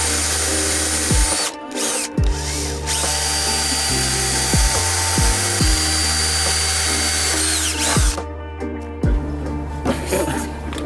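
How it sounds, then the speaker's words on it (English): Cordless power drill boring holes into the back of a Futago aero kit side skirt on a ZC6/ZN6 FRS, BRZ or GT86, with several steady whining bursts broken by short pauses and clicks, close and loud. "So we're gonna drill those out and put zip ties in each one."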